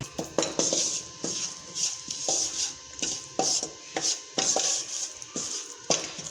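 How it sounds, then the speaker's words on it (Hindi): Maida flour roasting in a pan over a slow flame for white sauce pasta, stirred with a utensil that gives repeated close scraping strokes and light knocks against the pan in an uneven rhythm, with no talk. "तो इसको हल्का सा मैदे को भी इसी में भून लूँगी ताकि इसका कच्चापन ख़त्म हो जाए"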